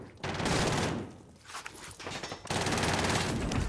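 Rapid bursts of Mac 10 submachine gun fire in a frantic video game match, dense crackling volleys near and loud, broken by a short lull before another sustained burst.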